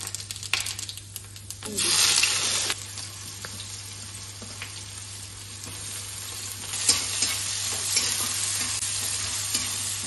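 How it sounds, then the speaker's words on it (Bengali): Dry red chillies, whole cumin and whole garam masala hit hot oil with a loud burst of sizzling that swells around two seconds, then settles into a steady crackling fry with occasional stirring clicks, no voices. "এবারে শুকনো লঙ্কা আর গোটা জিরে আর গোটা গরম মশলা এটা তেলের মধ্যে দিয়ে দিচ্ছি।"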